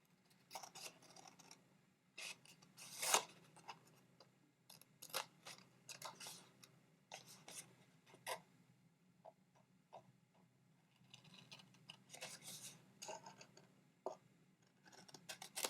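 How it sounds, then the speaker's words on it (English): Scissors snip the small corners off a paper envelope, giving faint, sparse clicks and crisp cuts spaced irregularly in a quiet room. "These little parts here, these little corners, I'm just going to cut them away"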